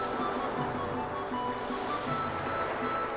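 Ocean waves in the video game Legend of Legaia, a continuous rushing surf and wash that stays steady and fairly loud the whole time, with no speech.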